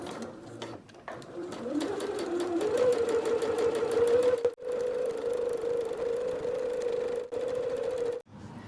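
A sewing machine top stitches linen for a cosmetic bag, with the stitch length set to 3 and the line 1/8 inch from the seam. It runs as a steady, close whirring stream, broken by two brief pauses.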